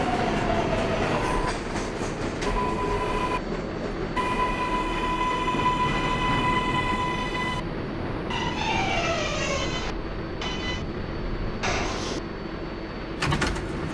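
An R142A New York subway car on a Brooklyn Bridge-bound 6 train runs along the line with steady rumbling, broken by several tonal whines and chimes.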